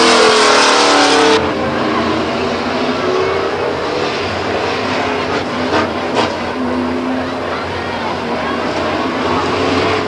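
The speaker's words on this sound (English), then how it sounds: "Murphy now jumps out to the lead, but he's knocked off by the 27 truck of Sherman Mike Sherman" Race trucks circle the oval at Stockton 99 Speedway, their engines forming a loud, continuous roar with a brief high whine at the start, while a commentator talks over the track noise.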